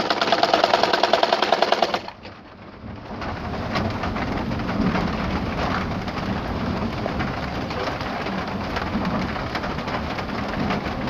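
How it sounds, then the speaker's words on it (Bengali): A sewing machine stitches a ribbon for a Quran cover, a fast even clatter for about two seconds before the stitching stops and a soft hiss of background noise remains. "সেলাই করে যাব"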